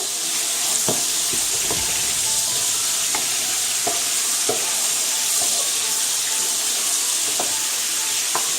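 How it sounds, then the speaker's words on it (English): Beef for Haitian bouillon sizzles and bubbles in a pot with a steady close-up hiss. Occasional clinks and stirring knocks break through it. "this is the meat cooking over there"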